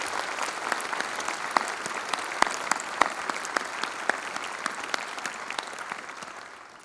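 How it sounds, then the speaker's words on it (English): A seated audience applauds at a presidential inauguration ceremony, with many distinct claps rising into a loud, lively round that holds steady, then slowly thins and fades toward the end. "join me in another round of applause for our President ad interim."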